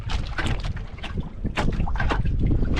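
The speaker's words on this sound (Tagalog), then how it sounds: "Limbo-limbo yung hangin. Lakas yung hangin." Strong wind gusts buffet the microphone on an island shore near a boat, a dense, roaring rush with irregular bursts that stays loud throughout.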